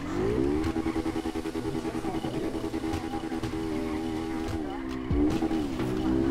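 Honda Fan motorcycle pulling a wheelie in GTA V, its engine note rising and wavering loudly and continuously, with a brief tire-skid burst near the end and game sounds mixed in.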